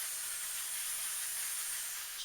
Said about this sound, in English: We'll spray the float off here.